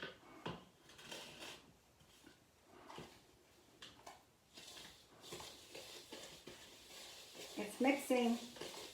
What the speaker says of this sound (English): Sometimes you gotta go conk, conk, conk with your spoon, but I'm mixing it together.